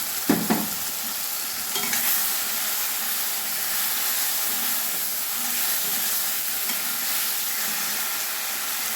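Chicken fries in a pan with a ground paste of ginger, garlic, green chili and onion for a Bengali chicken kosha, hissing in a loud, steady sizzle after a few sharp clatters at the start.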